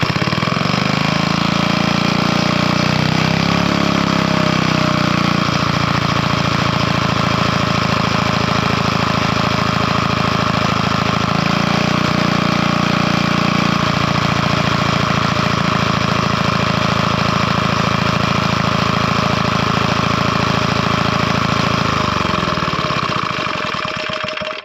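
Rare Villiers MK-9 stationary engine racing on full choke, a loud close rapid putter running continuously for the whole stretch with slight surges in pitch before it winds down at the end.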